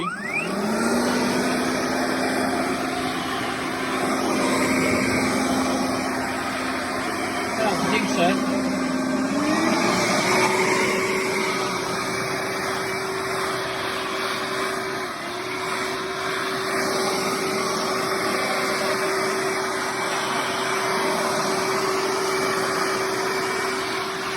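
A Makita DUB363 18V cordless leaf blower runs steadily at its lower speed setting, giving a continuous whooshing whine with a slight pitch rise partway through, close and loud for the whole stretch.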